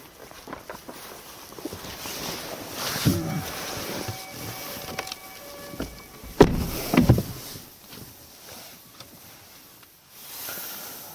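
An Audi TT (8S) coupe 45 TFSI quattro with leather power seats: two muffled clunks and rustles as the door is handled and someone climbs in, set against a quiet background with no talk.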